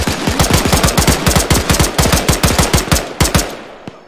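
Rapid automatic gunfire in the Arma 3 video game, aimed at rioters from a rooftop, rings out as a loud, close burst of about thirty evenly spaced shots that stops abruptly, leaving one final shot.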